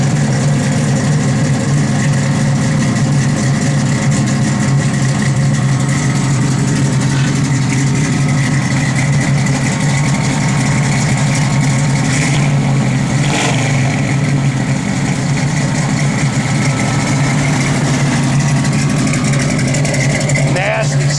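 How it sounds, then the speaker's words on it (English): A 1972 Chevrolet Nova engine with a lumpy cam idles loudly and continuously with a rough, choppy low rumble, with light revving and voices talking over it. "Nasty sounding cam."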